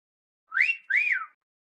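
Two short rising-and-falling whistled notes, close and clear, with brief silence before and after.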